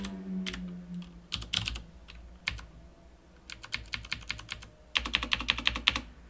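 Keys clatter on a computer keyboard in quick irregular bursts, close and fairly quiet, with short pauses between runs of typing.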